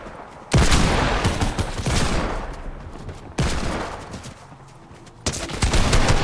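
Fortnite gunfire arrives in several loud, sharp volleys, each burst cracking out and trailing off before the next, four distinct barrages close and intense.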